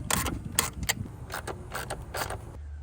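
Bolts are tightened with a ratcheting tool while a flex fuel kit is installed on a car: a quick series of close, loud clicking creaks in short bursts, with no voices.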